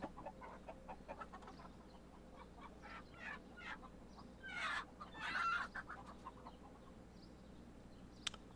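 Chickens cluck in the farm simulation game Farm Manager World, a busy run of short repeated clucks with a couple of louder squawking bursts near the middle, steady over a low background hum and with no talk.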